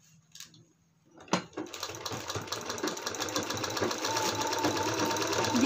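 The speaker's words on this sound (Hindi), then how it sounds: "साइड से हम इसमें सिलाई लगा देंगे।" A sewing machine stitches the side seam of a handmade winter sock boot for a baby, starting after a short quiet pause and then running in a steady, close, continuous whir to the end.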